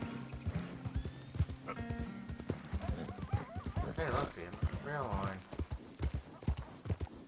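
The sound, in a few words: horse in Red Dead Redemption 2 video game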